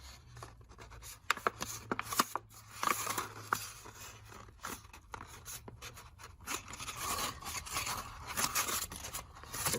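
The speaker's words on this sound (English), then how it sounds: "Fold it in half, creasing each side." A paper plate is folded in half and creased, giving soft scraping and rubbing strokes with a few sharp crackles as the fold is pressed down, close and quiet with no talking.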